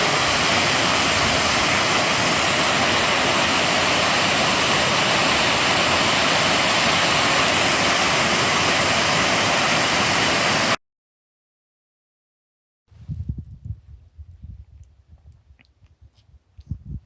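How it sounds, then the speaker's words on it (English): Schoolhouse Falls on Greenland Creek in Panthertown Valley, Nantahala National Forest, a loud steady roar of falling water that cuts off abruptly, followed by silence and then faint rustling and handling noise. "This is Schoolhouse Falls"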